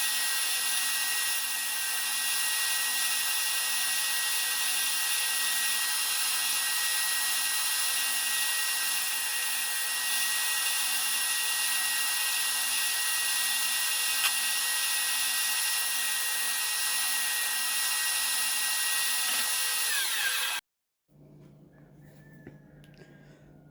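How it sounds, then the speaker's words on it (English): A belt grinder whirs loudly and steadily for about twenty seconds as it sands a chef knife handle, then abruptly stops, leaving faint quieter noise. "it's gonna be mostly on the belt grinder"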